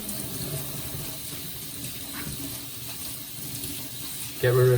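Warm water runs steadily from a kitchen tap while a sponge is rinsed under it, ahead of cleaning cast iron cookware. The broad hiss holds for several seconds, then a brief louder splash and tonal squeak come at the end, with no talk.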